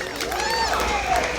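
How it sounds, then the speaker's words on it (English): A wrestling crowd at a live PWA title match roars with sustained cheering and chatter, dense and close, under an announcer's voice. "This crowd's certainly behind him."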